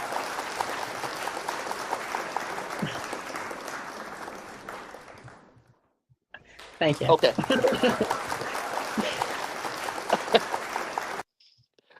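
Canned applause triggered from a button on a podcast set fills the first half as a dense, steady clapping wash under a spoken thank-you, then fades out. A brief silence follows before louder, choppier talk and background noise.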